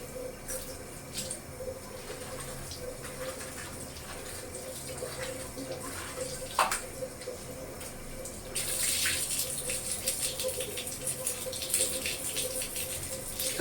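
A water tap runs steadily during clothes washing, a continuous hiss that gets louder and brighter toward the end, with occasional splashes and faint talk in the background.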